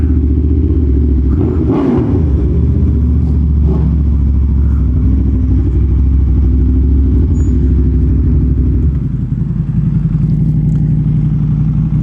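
An Aprilia Tuono V4 1100 Factory motorcycle with its first modifications hums at a steady low engine note while riding, then settles to a lower idle-like rumble near the end.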